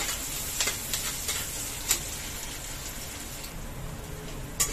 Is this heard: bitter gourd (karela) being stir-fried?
yes